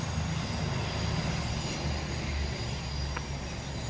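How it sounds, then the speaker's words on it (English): A train rumbles steadily nearby, a continuous low mechanical roar with a faint brief squeal partway through. "it's just a train there"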